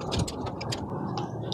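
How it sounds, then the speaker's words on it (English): A small metal worm drive hose clamp being tightened onto a garden hose, producing a quick run of light, close ticking clicks like a ratchet. "I'm gonna put on this hose, little worm drive clamp here."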